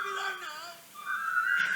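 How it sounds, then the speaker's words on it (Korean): A person whistles the marching tune from the film The Bridge on the River Kwai, a short melodic phrase that pauses briefly and then resumes on a sustained higher note, close and clear. "행진하면서 저 노래를 휘파람을 부르는 겁니다"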